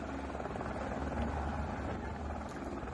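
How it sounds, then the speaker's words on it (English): Loud, continuous rotor noise from a landing helicopter, a close rumbling whir that holds steady throughout without speech. "Now that's the helicopter."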